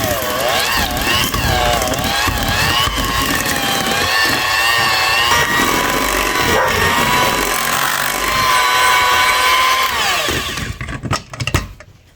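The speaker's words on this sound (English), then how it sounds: "we're going to beat a whole 8-ounce package of cream cheese" Electric mixer beating a softened 8-ounce block of cream cheese for a filling, a loud steady whirring drone that shifts in pitch as the beaters work, then cuts off near the end.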